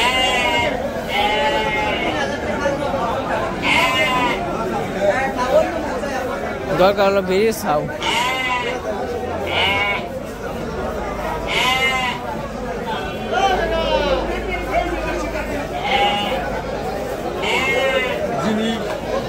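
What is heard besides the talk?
Ram goats (Jamunapari goats) bleating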